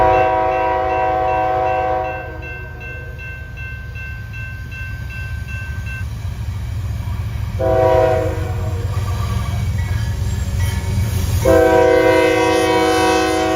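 A CSX coal freight train rolls past with a continuous rumble of wheels and railcars, its horn sounding several chord blasts across the passage, loud and close.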